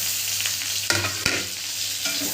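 Shredded cabbage and capsicum stir-fried in a hot pan with chopped garlic, onion and chilli for chowmein: a steady close sizzle broken by a couple of sharp utensil scrapes near the middle, with no talking.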